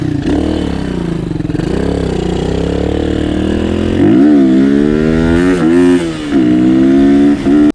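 A Suzuki DR200 dual-sport motorcycle engine with a modified carburetor setup and modified exhaust revs loudly and continuously, pitch rising and falling through several throttle blips, close to the microphone with no talking.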